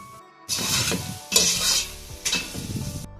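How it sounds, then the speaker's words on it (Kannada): Onion, ginger and garlic paste frying in ghee for ghee rice, with three loud bursts of sizzling and stirring, each lasting about a second, scraping against the pan between short pauses. "ಈರುಳ್ಳಿ ಶುಂಠಿ ಬೆಳ್ಳುಳ್ಳಿ ಪೇಸ್ಟ್ ಎಲ್ಲ ಚೆನ್ನಾಗಿ ಫ್ರೈ ಆಗಿದೆ"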